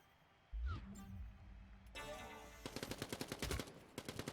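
Pistol fire in the Quake Champions arena shooter during a competitive league match: a sharp shot near the start, then a rapid run of loud, evenly spaced gunshot cracks with game action behind them.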